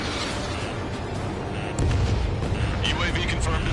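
A missile explosion destroying a UAV in Ace Combat 7 hits as a sudden rumbling boom midway, swelling into a sustained roar over jet noise, with radio chatter around it.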